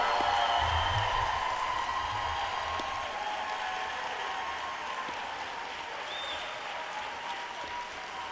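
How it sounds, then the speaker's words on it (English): An audience at an evening teacher-of-the-year awards program cheers and applauds the honored elementary teachers, a dense sustained roar of clapping that is loudest at first and slowly thins, with no speech over it. "let's give them a cheer"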